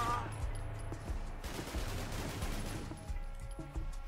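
Gunfire from the video game Fallout London, with a steady rattling spray of shots and a few sharper cracks, fairly faint under game ambience.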